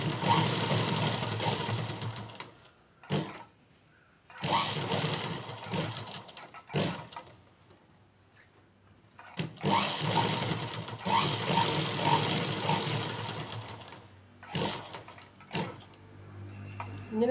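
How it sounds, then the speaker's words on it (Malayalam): A sewing machine stitches lines across a cloth pot holder in several runs of rapid, steady whirring, separated by quiet pauses and a few brief clicks, close up. "ഇനി നമുക്ക് ഈ ഓരോ ലൈനിൽ കൂടെ അടിച്ചു പോകാം."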